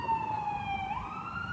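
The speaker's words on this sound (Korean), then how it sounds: "역시 다운타운에는 앰뷸런스가 바쁘죠." Ambulance siren wailing in a downtown area, a steady tone that sweeps upward partway through, moderately loud over background traffic rumble.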